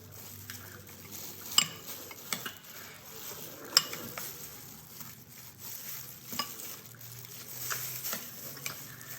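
A spoon stirs white sauce pasta in a pan, giving a soft, continuous wet sizzle with occasional light scrapes and clicks against the pan, close and fairly quiet.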